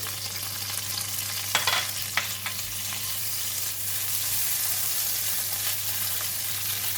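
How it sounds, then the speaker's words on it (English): Salted fish and chili fry in hot oil in a pan for fried rice, giving a steady, close sizzle throughout with a few sharp spatula scrapes early on. "We're going to fry the salted fish and the chili."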